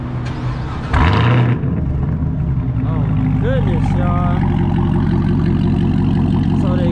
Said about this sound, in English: So the exhaust sounded good.